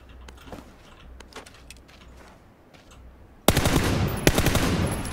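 Rapid automatic gunfire from an M4 rifle in PlayerUnknown's Battlegrounds, a few scattered quieter shots first, then a sudden loud, dense burst of close shooting.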